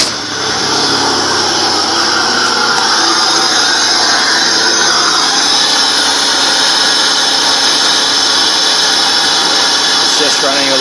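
A 2002 Pontiac Grand Prix GT engine with the airbox disconnected runs loud and steady at close range, a constant harsh roar throughout with a faint voice underneath.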